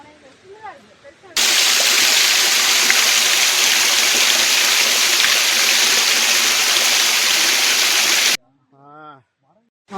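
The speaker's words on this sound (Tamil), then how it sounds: "இங்கேயே நல்லா இருக்குப்பா ஃபால்ஸு." Small Kanching waterfall in Rawang, Malaysia, a loud, steady rush of falling water that cuts in abruptly and fills most of the stretch, with voices talking briefly before and after it.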